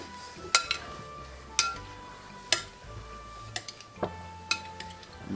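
Nacho toppings being mixed in a dish, a utensil clinking and scraping against the bowl in about six sharp, evenly spaced strikes, close and fairly quiet with no talk.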